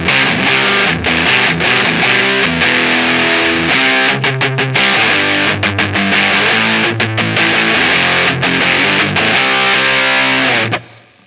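A heavily distorted electric guitar played through a distortion pedal set high plays loud chugging riffs with rhythmic muted stops, ringing out on a sustained chord before cutting off at the end.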